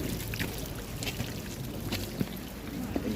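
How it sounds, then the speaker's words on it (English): Water runs steadily through a sluice at a gold-panning spot at Temple Mine in Derbyshire, making a continuous close rushing and pouring wash with a couple of faint knocks on top. "There you go, panning for gold."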